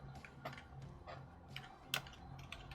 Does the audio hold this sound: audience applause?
no